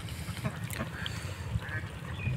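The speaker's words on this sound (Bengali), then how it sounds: "খালের মধ্যে দেখতে পাচ্ছেন কিছু হাঁস উন্মুক্তভাবে চলাফেরা করছে" Ducks on a canal quack softly and intermittently over steady low outdoor rumble, with faint splashing or movement in the background.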